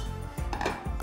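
A metal cooking pot, used while making Kremlin-style beef with potatoes, clatters and knocks in a few short, close handling sounds against a low kitchen hum, with no one talking.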